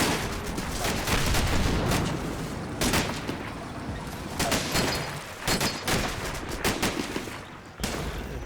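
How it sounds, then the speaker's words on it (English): Machine guns in the Combat Mission Battle for Normandy video game rattle in dense, sustained bursts of rapid fire with heavier booms mixed in, loud and continuous with short pauses. "Looks like the MGs at the back here are firing up."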